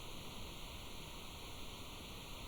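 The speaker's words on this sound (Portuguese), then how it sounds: "A água corre." Flowing water in a botanical garden at night makes a faint, steady, unbroken wash with no pauses or other sounds.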